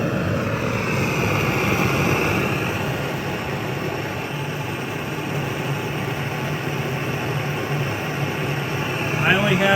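A vintage Otto Bernz blow torch burns with its valve open, giving a steady, loud, close roaring hiss that holds constant throughout.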